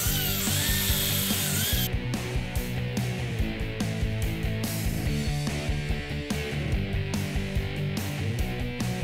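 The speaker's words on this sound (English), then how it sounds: "And biscuit the joints together." A biscuit joiner cuts joint slots in wood for a cabinet, its motor whirring continuously with sharp repeated bursts as the blade plunges in, close and fairly loud with no talking.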